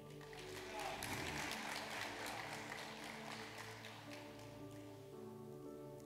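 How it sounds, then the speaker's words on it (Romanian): A church congregation applauds together, a dense, steady wash of clapping that runs the whole time over a low sustained hum of tones, moderately distant and even in level. "Hai să-L aplaudăm"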